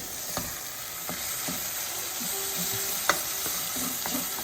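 Berbere spice mixture sizzling in a pot for Ethiopian misir wat, a steady frying hiss with a few sharp scrapes and knocks as it is stirred, close up and without talk.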